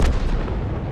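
A tank gun firing in World of Tanks, a single heavy boom with a deep rumbling tail over about a second, loud and close.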